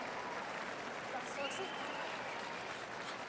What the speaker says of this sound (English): As we hear the crowd buzzing for Rachel Holman's draw attempt.